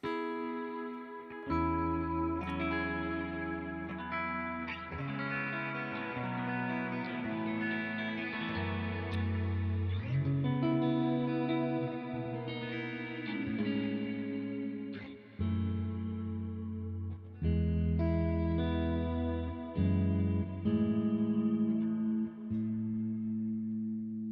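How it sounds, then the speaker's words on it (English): Electric guitar played through a large reverb pedal on a live pedalboard, sustained chords and single notes ringing into long, washy tails that blur each change, continuous and alone for over twenty seconds. "And then I have this really ridiculous big reverb."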